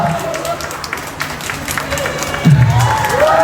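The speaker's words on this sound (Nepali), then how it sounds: "रोशनीजीको लागि जोरदार ताली" A crowd claps and cheers for a performer on stage at a Zumba event, with a steady wash of applause and a presenter's voice over it, swelling louder near the end.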